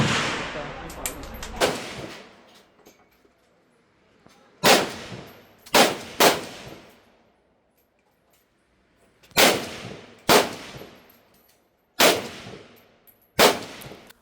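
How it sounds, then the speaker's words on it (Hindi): AK-47 assault rifle fired at a shooting range near the Cu Chi tunnels in Vietnam: loud, sharp single shots and short bursts with echoing decay, separated by pauses, close to the listener. "गोली चली, धमाका हुआ"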